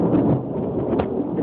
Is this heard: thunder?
yes